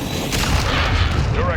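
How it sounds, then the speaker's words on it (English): A cruise missile explosion in the video game Modern Warfare 2 lands as a short, loud, dense boom with rumbling debris, while a voice talks over it. "Trojan 6-2, cruise missile inbound."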